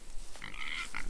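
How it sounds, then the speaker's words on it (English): Pigs on a farm, expecting food when someone approaches, let out a short burst of nasal grunts and squeals, close and fairly clear. "The pigs, sorry for the noise."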